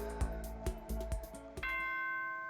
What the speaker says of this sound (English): Ah, ding dong, bing bong.